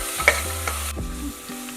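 Ginger garlic paste and onion frying in a pan while being stirred: a short burst of close sizzling with a couple of scraping strokes from the stirring, fairly loud, with no voices.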